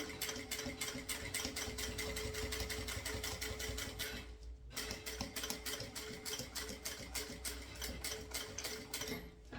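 Sewing machine running steadily while backstitching a seam on a synthetic-material crossbody bag, a dense rapid stitching rhythm that pauses briefly midway, then resumes at the same close, loud pace.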